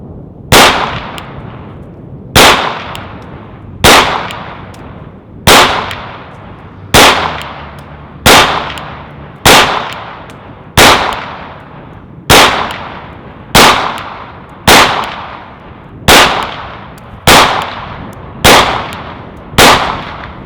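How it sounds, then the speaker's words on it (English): A Glock 19 pistol fires at a cardboard target, fifteen loud, sharp shots at a steady, unhurried pace, each with a brief ringing decay before the next. "there's 15 rounds through the Glock 19"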